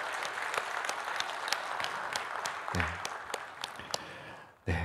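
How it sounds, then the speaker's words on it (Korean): A church congregation claps during a Sunday worship service, a steady, moderate patter of many hands with sharper individual claps standing out. It ends with a brief sound at the close. "잠깐 일어나시면 우리 박수로 위로하고 또 격려하도록 하겠습니다"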